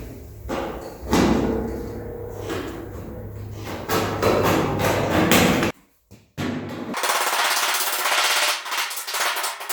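Sheet metal for a custom hot rod hood on a 1940 Ford-inspired build is hammered and shrunk, producing rapid loud metallic pounding in long bursts with a short pause midway.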